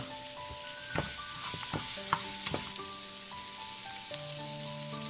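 Curry leaves, garlic, ginger and a large onion frying in a pan for egg curry, a steady sizzle broken by several sharp spoon strikes and scrapes, with faint background tones and no speech.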